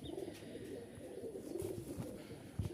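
Giribaj pigeons in a loft give soft, repeated throaty coos with some light rustling, close and fairly faint, with no talk.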